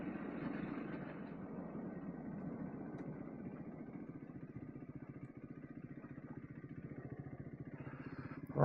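Triumph Speed 400 motorcycle riding through Wales' Elan Valley toward the upper dam, its steady mid-pitched engine drone running continuously and close throughout, with wind rush over the top.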